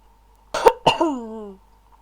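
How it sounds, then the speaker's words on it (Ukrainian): Two sharp coughs close to the microphone, followed by a short voiced groan trailing off, in an otherwise quiet room. "Вибачайте, що я кашлюю"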